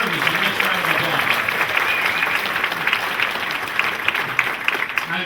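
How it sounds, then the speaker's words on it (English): Steady round of applause from an audience at a 50th anniversary celebration dinner, continuous dense clapping throughout with a faint murmur of voices beneath. "a nice round of applause"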